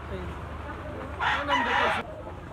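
A black-legged bull stag rooster crows once, loud and close, in a single strained call of about a second that rises over a steady background hum.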